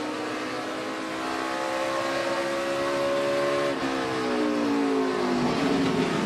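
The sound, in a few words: NASCAR race car downshifting into a right-hand corner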